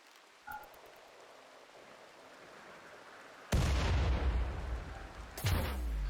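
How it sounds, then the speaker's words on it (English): Colonists opening fire with guns in RimWorld, a quiet ambient lull broken by a sudden loud burst of shots and impacts, followed by another sharp volley near the end. "time for you lot to open fire"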